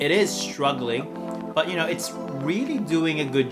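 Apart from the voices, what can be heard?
No everyday noises stand out.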